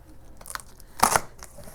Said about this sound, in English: Go ahead and open the box.